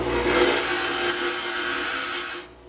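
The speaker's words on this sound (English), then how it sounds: "Gotta grind this down a little bit." A Harbor Freight Hercules 8-inch bench grinder grinds steadily against a workpiece with a bright, harsh whine, holding constant for over two seconds before cutting off as the piece is pulled away.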